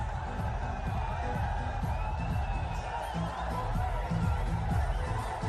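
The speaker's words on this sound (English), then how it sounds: "That will give them something to cheer." Spectators at a Sri Lanka versus Bangladesh Asia Cup cricket match cheer a boundary, a steady broad roar of a large distant crowd with scattered whoops holding at even loudness throughout.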